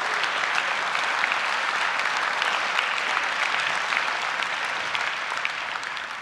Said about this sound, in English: let's give them a round of applause for having a great team finish this year